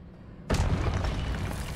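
A spell cast in the Hogwarts Legacy video game lands as a sudden loud burst after a brief quiet moment. It then holds a dense, roaring, crackling blast of magical impact until the end.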